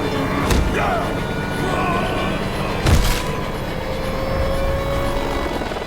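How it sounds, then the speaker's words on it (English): A helicopter's rumbling engine and rotor drone continuously, with a couple of sharp booms cutting through the noise. "the helicopter lifts off and escapes"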